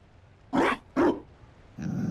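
A dog in the Dragon Age: Inquisition game gives two sharp, close barks in quick succession, followed by a brief whimpering tone at the end.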